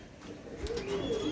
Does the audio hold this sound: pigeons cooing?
yes